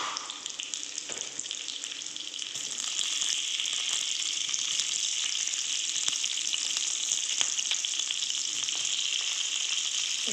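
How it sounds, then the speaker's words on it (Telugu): Urad dal, chana dal, mustard seeds, cumin and dried chillies crackle and sizzle in hot oil as a tempering for coconut mango chutney, a steady close hiss that holds for about ten seconds with faint stirring. "కొంచెం లైట్ బ్రౌన్ కలర్లో వచ్చేంత వరకు పోపు వేయించుకోండి"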